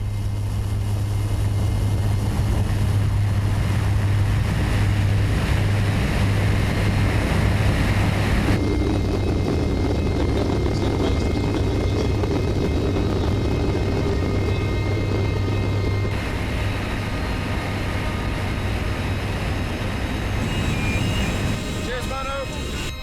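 Inside the cabin of a climbing skydiving plane at a Madrid drop zone during an AFF course: a loud, steady engine drone with a low tonal hum and wind rush fills the space, with voices talking beneath it.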